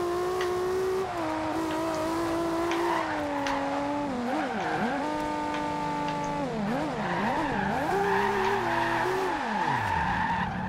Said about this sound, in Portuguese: Viu como é que ele perde tração?